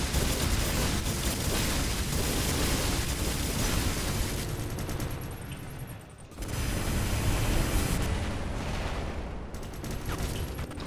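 Dense, continuous weapon fire and explosive impacts pound a robot in the War Robots mobile game, a loud roar of rapid shots and blasts that dips briefly midway before surging again.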